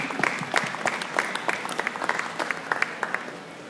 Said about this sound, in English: Let's give everybody that kind of helps with this Nebraska Cattlemen's Classic a round of applause